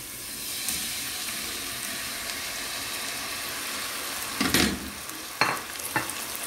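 Eggs fry with bacon in a pan, a soft steady sizzle with a few louder bursts of crackling and stirring scrapes near the end.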